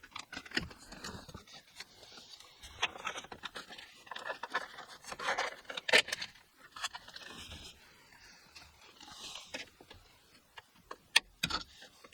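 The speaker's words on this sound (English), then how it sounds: "you can just kind of slide down and start prying it off" Interior trim on a Volkswagen Golf R is pried loose, producing faint, irregular clicks, creaks and plastic scraping at close range, with a few sharper snaps.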